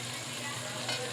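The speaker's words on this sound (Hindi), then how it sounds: "ये मैं साथ आलू डालूँगी कि आलू भी इसके साथ ही ब्राउन हो जाए गोश्त के साथ" Potatoes and meat fry and are stirred in a pot for aloo gosht, a close, steady sizzle with faint scraping that carries on without break.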